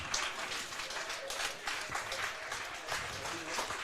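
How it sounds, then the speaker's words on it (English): Steady, moderately loud applause from a crowd at a Wahpeton Post 20 versus Grand Forks Blues Post 6 baseball game, greeting the Boys State choir, with dense continuous clapping throughout and some faint voices mixed in. "There's the choir guys for the Boys State getting a nice round of applause."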